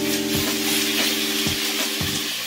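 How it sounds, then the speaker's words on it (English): Food sizzles loudly in a hot pan, a continuous hiss punctuated by a few scraping stirs and knocks. "Keep that pan sizzling."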